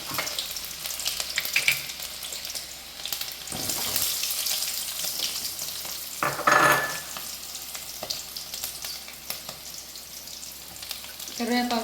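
Mustard seeds, dried red chillies, garlic and curry leaves fry in sesame oil in a pan, with a loud, continuous sizzle and crackle and the occasional scrape of stirring close by.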